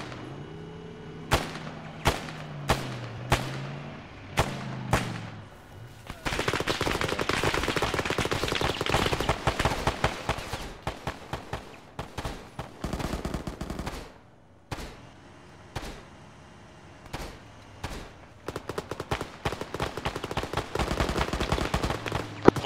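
Repeated gunfire in the video game Arma, fired through a house wall at an enemy in a top window: sharp single shots early, then long dense bursts of automatic fire with scattered cracks, loud and close, alone.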